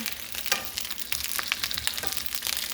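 Half an onion fries in a pan, giving a steady close sizzle with crackling pops and light stirring scrapes throughout, with no voices.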